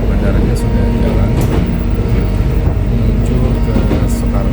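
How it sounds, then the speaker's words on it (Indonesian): The KA Bandara airport train bound for Soekarno-Hatta rumbles steadily at speed, a dense continuous low roar with faint rattles throughout. "sekarang kereta bandaranya sudah jalan"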